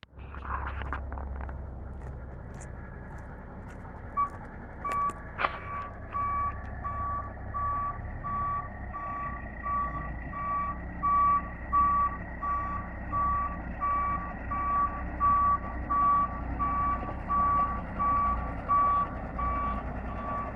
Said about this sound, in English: 23 tonnes this truck weighs when it's full of water.